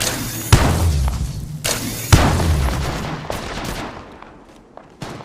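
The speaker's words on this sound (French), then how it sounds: "Je suis sous les tirs." Loud, close gunfire in the video game Apex Legends Mobile comes as heavy booming shots that ring out and fade, with a couple of distinct blasts followed by decaying rumble.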